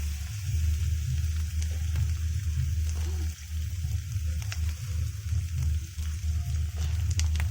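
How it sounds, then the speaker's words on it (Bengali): Spice paste for koi fish curry fries in a generous amount of oil, a close, soft sizzle with occasional pops over a steady low rumble of the stove. "মশলা ভাজা ভাজা হয়ে এসছে।"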